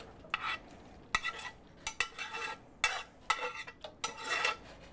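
Vegetables go into a pan of beef broth and tomato sauce with bay leaves while cooking over a fire, giving irregular scraping and clattering stirs with short bursts of sizzle, close and moderately loud.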